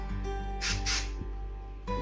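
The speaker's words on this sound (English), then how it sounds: "Shake the can and spray your project." An aerosol spray can releasing adhesive onto a felt crafting project, two short close hissing bursts in quick succession over a quiet background hum.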